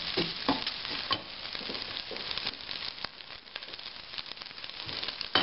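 Meat for stuffed peppers browns in a pan with a close, continuous sizzle and frying crackle, broken by scattered sharp clicks and scrapes of stirring.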